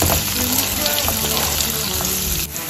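Fish with pepper frying lightly in a pan for a dry chilli fish dish, a steady close sizzle that runs evenly throughout with little change, with no talking over it.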